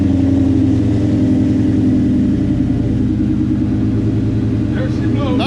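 A freshly finished car's engine idles with a steady mid-pitched rumble as it prepares to move under its own power for the first time, ending in a brief rising rev.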